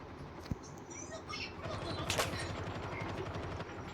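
Rapid bursts of gunfire from the Call of Duty Mobile video game crackle at a moderate level, mixed with faint game effects and some talking.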